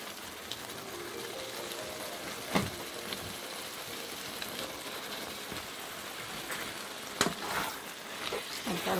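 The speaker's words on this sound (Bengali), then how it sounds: "তো এখানে যে পাস্তাগুলো ধুয়ে রেখে দিয়েছি সেগুলো দিয়ে দিচ্ছি।" Washed tagliatelle pasta goes into a pan of sauce and is stirred, giving a steady soft sizzle with scattered scraping and clinking bursts from the spoon and pan.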